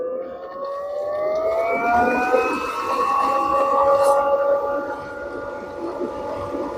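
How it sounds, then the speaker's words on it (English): A 1.8 HP variable speed pool pump starts up and self-primes, its motor whine climbing steadily in pitch as it ramps up to 2900 RPM, loud and continuous with no pauses. "When you first turn on the pump, it will self-prime."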